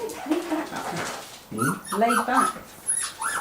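Six-and-a-half-week-old puppies whimper and yip in short, high bursts close by, interleaved with a person talking softly.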